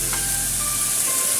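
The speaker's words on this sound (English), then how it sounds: "Now we stir fry to mix everything well." Long green beans and beancurd strips stir-fry in a hot pan, giving a loud, continuous close sizzle and hiss throughout.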